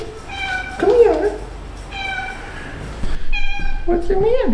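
Luna, a cat, lets out several clear meows close by, drawn-out rising and falling cries with short gaps between them, while a person talks softly to her.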